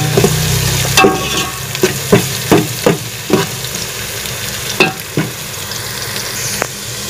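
Garlic and ginger paste frying with browned onion in a pot for beef yakhni pulao, a constant sizzle broken by rhythmic scraping stirs, close and alone.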